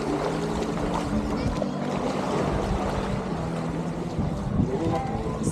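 A boat motor drones steadily under rushing water and wind, with faint voices in the background, on a tour at Caramoan in the Philippines.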